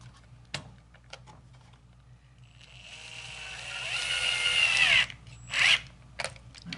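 Cordless drill slowly driving screws into a floating frame holding a canvas, a rising whine that builds for a couple of seconds before stopping, then a second short burst, with light clicks and handling noises around it.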